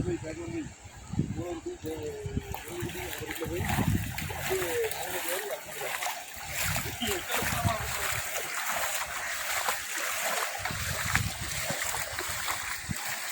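Water splashes and sloshes as a rescue team wades or paddles through floodwater, irregular and close, with people talking throughout.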